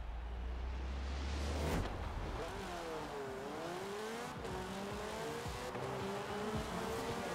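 A race car in Forza Horizon 4 roars through a race, engine pitch climbing and falling through gear changes, with tire squeal and a thump, loud and close with no talk.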